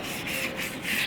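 Sanding on a sailboat under restoration, a steady raspy abrasive rubbing with slight pulses as the sander or paper moves across the surface, close and continuous.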